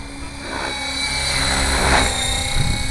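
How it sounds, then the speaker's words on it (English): A steady whining rotor and motor drone of a Gaui X5 model helicopter doing flips, fairly loud and continuous, swelling slightly midway. "This is just an awesome helicopter."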